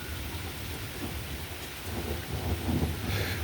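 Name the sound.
rain and thunder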